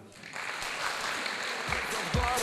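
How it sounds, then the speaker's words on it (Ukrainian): An audience applauds to welcome a comedy sketch on stage, a steady wash of clapping at moderate distance with a few louder thumps and faint voices near the end. "Зустрічаємо оплесками."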